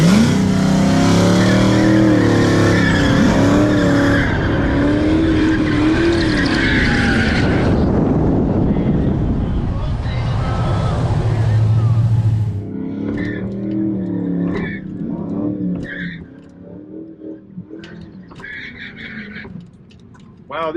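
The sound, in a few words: drag racing cars spinning tires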